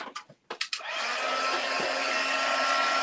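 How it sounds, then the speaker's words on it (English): Hand-held heat gun for craft embossing switches on after a few brief clicks and handling sounds, then blows with a loud, steady whooshing hiss and a faint motor whine that continues to the end. "let's get my heat gun out"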